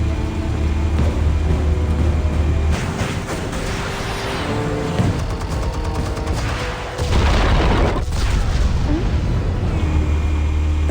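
Missiles from turrets and a drone blast in the Batman Telltale game: heavy, continuous booming rumbles with crackling bursts, and a fresh wave of deep explosions about two-thirds of the way through.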